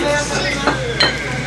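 Glasses clink twice in a toast over a motsunabe hotpot meal, two bright, close taps amid soft table clatter and low voices.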